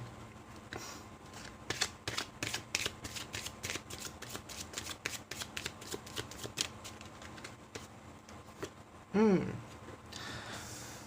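Oracle cards being shuffled for a reading, heard as a rapid, close, quiet run of crisp riffling snaps and slides, with a brief voice near the end.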